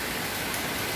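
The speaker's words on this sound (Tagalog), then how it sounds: "Sobrang ulan. Sobrang atak ng ulan." Heavy rain pours down steadily in a Singapore downpour on New Year, a dense, continuous hiss filling the whole moment with no pauses and no voices.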